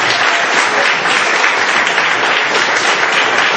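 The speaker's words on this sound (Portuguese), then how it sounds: "Bate as palmas para Jesus" A church congregation claps along during a worship service, a dense, steady wash of many hands throughout, loud and close with no pauses.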